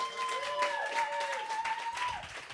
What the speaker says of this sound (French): Applaudissez-vous vous-même, vous me faites kiffer.